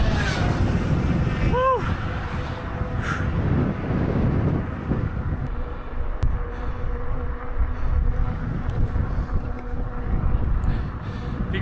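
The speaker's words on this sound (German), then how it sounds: "Und es ist sehr windig halt." Strong wind buffets the microphone in a constant low roar along the North German coast during an e-bike ride, with a brief exhaled puff from a voice partway through.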